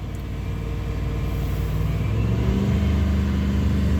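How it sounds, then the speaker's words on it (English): A Chevy 3500 pickup with the 8.1-liter engine, a barn find, revs in neutral, a steady close rumble that climbs partway through and holds at a higher pitch, with no talk over it. "So let's give it a little gas, see what happens."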